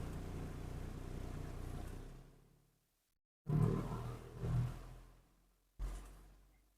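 A 1995 Mercedes E300 diesel engine revving under light throttle, a low rumbling drone that fades out, then returns in a couple of loud swelling bursts before tapering off; close and alone.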